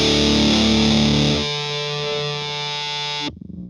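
A distorted electric guitar chord rings loud and dense, thins abruptly partway through into a sustained buzzing tone, then cuts off sharply near the end with a brief decaying tail.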